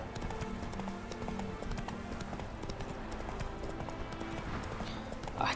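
Hooves of Roach, the horse in The Witcher 3 video game, clip-clop in a steady trotting rhythm, moderately loud and continuous, with faint game ambience beneath and a brief rise at the end.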